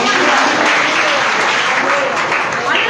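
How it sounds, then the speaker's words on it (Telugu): A church congregation claps loudly and continuously at a Christian sermon, a dense close wash of hands that stays strong for the whole stretch. "గట్టిగా చప్పట్లు కొట్టి"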